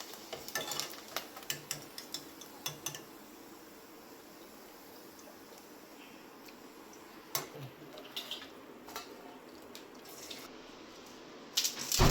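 Kurdai, white wheat crisps, frying in hot oil, a steady soft sizzle with scattered crackles and ticks, busier at the start and again near the end.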